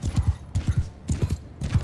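Cavalry horses gallop in the medieval battle game Mount & Blade II: Bannerlord, a fast loud drumming of hooves in repeated clusters of clip-clop beats.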